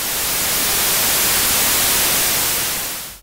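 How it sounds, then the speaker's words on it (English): Steady, loud broadband noise from a synthesizer noise generator hisses evenly for a few seconds, then cuts off abruptly at the end. "I need a sound to filter, so I'm going to use a noise generator"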